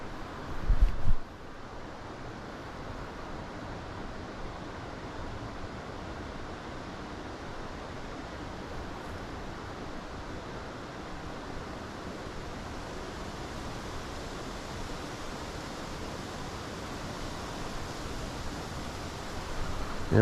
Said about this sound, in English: Oh, that wind's whooping it up.